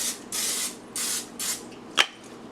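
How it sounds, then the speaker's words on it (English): Canola cooking spray hisses from a can in three short bursts, then a quick sharp tap, close and fairly loud. "The only thing I'm going to do is add canola spray."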